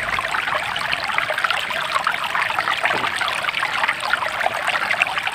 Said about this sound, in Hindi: पानी की आवाज़ सुनिए कितनी प्यारी आ रही है।